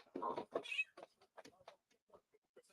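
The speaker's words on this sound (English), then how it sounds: "Oh, damn cat, go away." A cat meows several times in short, fairly close calls, with a brief drawn-out cry early on, followed by quieter scattered meows and faint noises.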